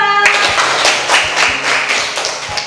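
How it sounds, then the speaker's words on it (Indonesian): A classroom group breaks into brisk, close-up clapping for a student group after its discussion presentation, staying dense and lively throughout, with a few louder thumps mixed in. "Beri tepuk tangan untuk kelompok 2"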